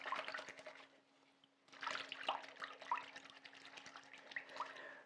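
Stockings swished around in a basin of washing water, a soft close splashing and trickling that pauses briefly, then resumes with small drips and sloshes, with no talking.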